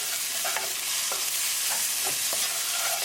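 Whole spices and ground coriander, cumin, turmeric and garam masala fry in a tadka for rajma, a steady close sizzle broken by several scraping stirs of a spoon, with no voices.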